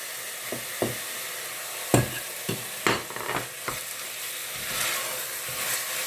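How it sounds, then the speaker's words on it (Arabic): Onion, mint and meat fry in a pan for a Tunisian chorba frik, with repeated stirring scrapes and clatters breaking over a steady sizzle, close and fairly loud. "تقلى بالباهي بالباهي البصل النعناع واللحم"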